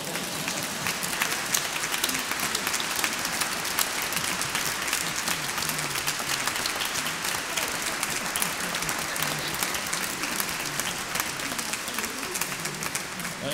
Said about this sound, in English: You might want to clap there,